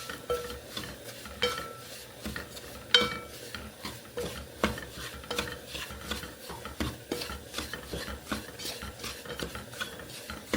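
Semolina being stirred and roasted in ghee on a low flame, with steady scraping strokes of a spoon against the pan over a soft, continuous sizzle, close and moderately quiet.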